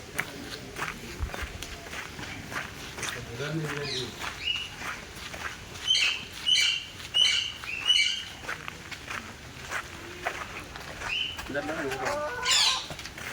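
Chickens cluck and squawk nearby, with a rooster's repeated calls in a short burst, over footsteps and faint voices in the background.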